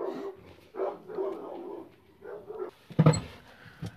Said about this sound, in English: especially if the dogs keep interrupting